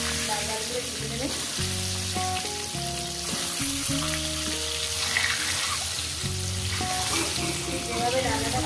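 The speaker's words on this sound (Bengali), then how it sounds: "একটু ডিমগুলো ভাজবো। বেশি কিন্তু পোড়া দেবে না" Eggs frying in a pan for an egg and potato curry, giving a steady, close sizzle that runs the whole time beneath a layer of tonal background music.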